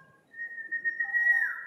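A person whistles to call up wind for flying a kite. A single drawn-out whistle, close and clear, holds steady and then bends upward near the end, with no other sound around it.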